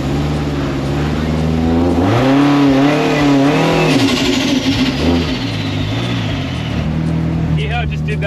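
Lexus IS200 engine, a tuned street car, revving hard with the pitch climbing and falling through several big pulls, loud and close, alongside talk.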